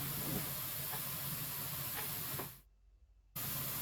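Onions frying on high heat in a pan for Tajik plov give a steady, close hiss of steam and sizzle, broken by a brief near-silent gap before the frying sound returns.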